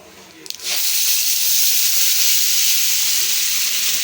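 Tomato puree poured into a hot pan sets off a sudden loud sizzle that stays as a steady, close, broad hiss with no talk over it.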